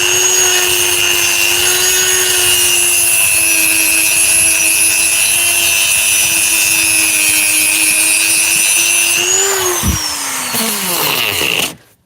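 Dremel rotary tool cutting into a DeWalt power tool battery pack, a loud steady high-pitched grinding whine that holds for about nine seconds, wavers and dips, then spins down and stops.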